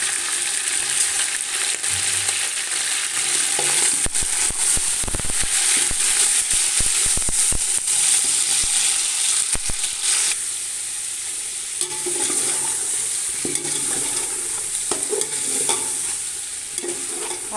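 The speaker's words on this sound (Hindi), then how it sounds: "अब चिकन को हमने उस वक्त तक फ्राई करना है जब तक ये भी गोल्डन ना हो जाए" Chicken pieces frying in a pot with onions for biryani, loud steady sizzling with scraping and clattering as a spoon stirs, no voices.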